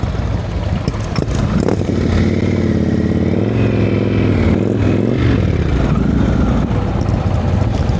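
A motorcycle engine hums at low speed through slow-speed riding practice in Washington, its note rising and falling as the rider modulates throttle against the brake, steady and close throughout.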